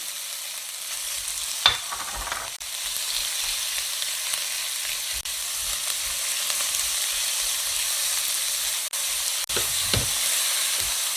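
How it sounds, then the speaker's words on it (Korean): Meat stir-fries in a wok with onion, chili and garlic, a continuous close hiss of frying broken by a few sharp clanks and scrapes of a utensil against the pan, no one talking. "이렇게 좀 올라왔을 때 고기를 볶아주세요"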